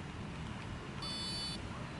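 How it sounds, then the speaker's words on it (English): One short, high electronic beep from FPV goggles sounds halfway through, faint against a quiet hiss. "It makes a beep noise."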